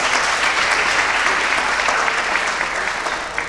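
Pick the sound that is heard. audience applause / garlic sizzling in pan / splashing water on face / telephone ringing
audience applause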